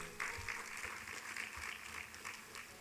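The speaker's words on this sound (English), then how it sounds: "another round of applause for the Honorable Minister" An audience at a government launch of a 2021 poverty status report applauds the Honorable Minister, a soft, steady wash of clapping that stays fairly faint and distant for a few seconds.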